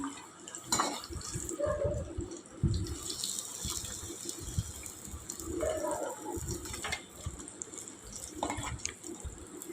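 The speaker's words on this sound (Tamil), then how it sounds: "இப்போ கடைசி இந்த பேட்சையும் போட்டு நல்லா ஃப்ரை பண்ணி எடுத்து வச்சுக்கலாம்" The last batch of fish pieces sizzles in hot oil for a Tamil fish fry, a steady close-up crackle that runs unbroken throughout with a faint voice now and then.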